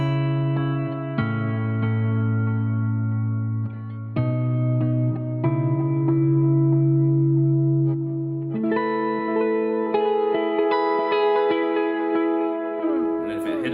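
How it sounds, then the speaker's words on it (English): A humbucker electric guitar through a Helix plays crystal-clean notes and ringing chords, steady and close with no breakup, a few picked changes ending in a bright strum that fades out. "Even with this humbucker guitar, you'll hear just crystal clean sounds."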